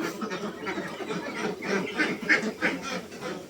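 Itik Pinas ducks on a duck farm in Davao City quack in a busy, overlapping chorus, steady and moderately close, with no talk over them.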